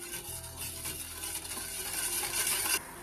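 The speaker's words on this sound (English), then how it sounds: "We'll allow this to melt and boil for 5 minutes." A syrup of one cup sugar and one cup water boils in a pot with a steady, close bubbling and sizzling hiss that swells slightly before cutting off.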